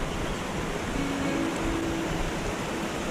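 A flowing stream current rushes near the hidden waterfalls at Fairmont Hot Springs, a steady, loud, broadband wash of water that continues unbroken with no voices.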